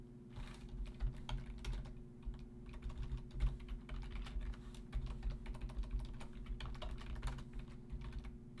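A computer keyboard clatters with steady, rapid typing while C# code is written, a close, continuous patter of key presses with no voices.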